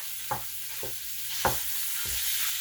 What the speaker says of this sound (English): now I need to fry up this bacon, or fry up this hamburger